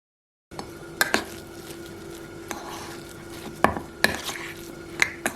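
Spices are mashed and stirred into sweet potato in a bowl for spicy vegan puri, with soft scraping and several sharp clinks of a utensil against the dish, fairly quiet and close.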